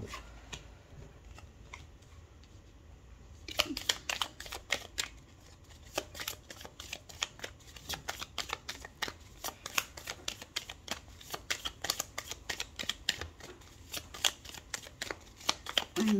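Tarot cards are shuffled and drawn with a quiet run of crisp, close riffling snaps and flicks, coming in irregular clusters after a soft, near-silent start.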